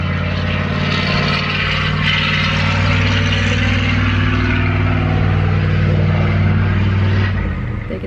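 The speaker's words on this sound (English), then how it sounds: "What is this loud vehicle driving by?" A loud vehicle drives past a house while someone stands on the front porch, its heavy engine drone steady and close throughout, easing off slightly near the end.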